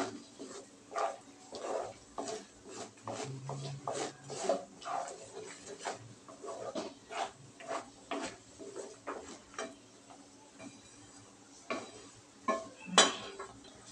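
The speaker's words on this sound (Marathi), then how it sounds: "झाकण ठेवते." A metal lid goes onto a pot of sweet lapsi porridge in a home kitchen, amid repeated close clinks and clatters of cookware, ending in one sharper metallic clang, with no talking.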